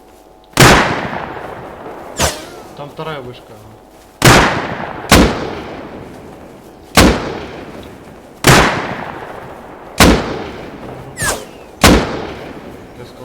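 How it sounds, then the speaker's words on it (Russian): Gunfire in the online survival game Rust, nine sharp loud shots in an irregular rhythm, each ringing out with a decaying tail, while players talk briefly between the shots. "Да, стреляют."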